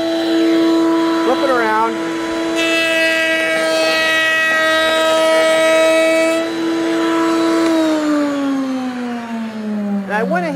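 Router spinning while it rounds and cuts a wooden dowel: a loud, steady high-pitched motor whine with a rough cutting buzz, then the pitch sags as the motor winds down. A voice speaks briefly near the start and end.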